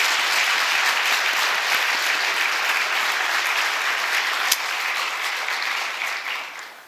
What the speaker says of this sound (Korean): 우리 김옥년 선교사님을 위해서 다시 격려의 박수